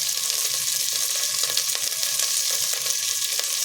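Mixed vegetables with capsicum fry in a pan for wheat-broken khichdi, a steady close sizzle with a few sharp crackles and stirring scrapes, no talk.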